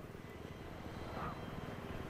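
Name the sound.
helicopter in Battlefield 3 video game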